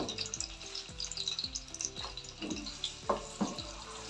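Onions sizzle and crackle in hot oil in a pan with whole spices (cinnamon pieces, bay leaf, ground ginger) for a shahi mutton korma, with a steady close frying hiss and occasional clinks of stirring.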